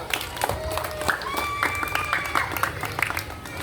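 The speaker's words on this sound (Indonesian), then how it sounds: "kita tepuk tangan untuk kita semua" A group of participants in a basic locomotor movement exercise class claps together in a dense, continuous patter of hand claps, with a voice talking over it.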